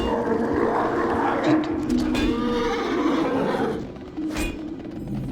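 A small pony neighs in a fantasy video game set in Havenshire, its whinny rising over busy game ambience with hooves clopping nearby, loud and close.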